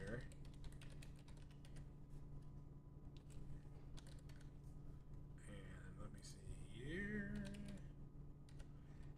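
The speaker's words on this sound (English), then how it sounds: "I'm typing something in here." Typing on a computer keyboard: quick irregular clicks over a steady low electrical hum, with a voice murmuring briefly near the end.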